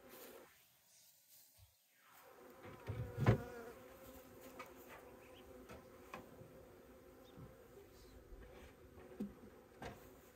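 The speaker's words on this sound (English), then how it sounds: "We even have some bees already feeding in here." Honey bees buzz softly at close range around a hive being set up with a queen, a low continuous hum with a brief louder pass of a nearby insect.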